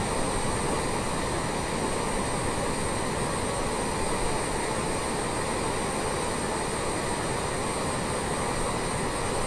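Steady, loud HondaJet jet engine roar in the cabin during a turn on a flight from Naples to Palermo over the Mediterranean, a constant broadband rush with a high whine holding level throughout, no voices.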